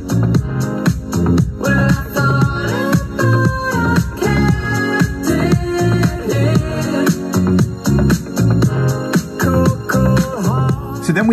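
A 1983 song, its pre-chorus spliced in after another song's chorus in a dance remix, plays as a dense full mix with a steady pulsing beat, loud and continuous with no talking.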